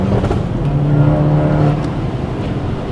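SEAT Leon with over 350 hp accelerating hard on a closed test track, a loud steady engine roar heard from inside the car, climbing slightly in pitch, no talk over it.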